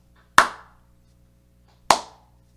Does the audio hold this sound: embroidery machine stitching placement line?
no